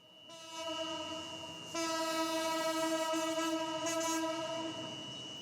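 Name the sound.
train running on railway track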